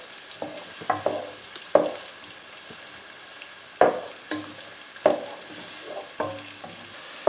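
Sliced onion frying in a pan with a soft, steady sizzle, broken by repeated clacks and scrapes of a utensil stirring it every second or so.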